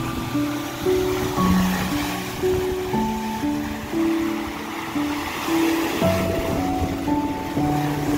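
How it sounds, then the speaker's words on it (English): Lake Erie waves washing up onto rocks at sunset with sailboats offshore, a steady near surge of water and spray, with wind buffeting the microphone and a faint tonal hum underneath, no voices. "Look at this water coming up here"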